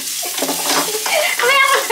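Onions sauté in a hot frying pan with a constant close sizzle, while a utensil stirs and scrapes the pan in short strokes, and a voice speaks briefly over it.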